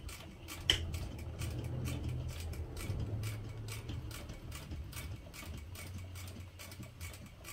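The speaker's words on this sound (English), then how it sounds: "that's where I'll start sewing. I'm using my longer stitch length" Sewing machine running a long stitch with contrasting topstitching thread on a small hip pouch, a steady rapid mechanical ticking rhythm with a low motor hum, fairly quiet and without talk.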